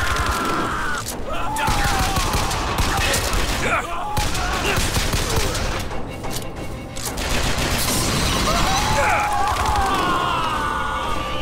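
Sustained gunfire aimed at the player in the first-person shooter Bioshock Infinite, loud bursts crackling almost without pause, with brief lulls between volleys.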